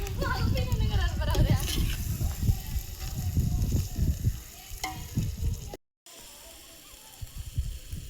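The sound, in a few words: onions and garlic frying in pan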